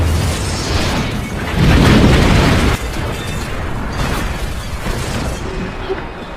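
A loud explosion destroys a minimarket, with a heavy boom and burst swelling around two seconds, then a dense rumbling, crackling roar that carries on steadily to the end.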